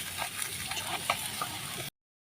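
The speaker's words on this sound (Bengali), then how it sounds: "এই যে গুড়টা ভালো মতো নাড়াচাড়া দিচ্ছে মা দেখো মিশাচ্ছে" Jaggery is stirred into raw mango pickle in a pan, a continuous sizzling, bubbling mix with light scraping, ending abruptly in silence.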